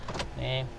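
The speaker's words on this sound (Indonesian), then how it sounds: "Terus power window-nya juga fungsi semua" The power window of a 2008 Toyota Kijang Innova G runs with a brief, steady electric motor whine close by, right after a single short spoken word.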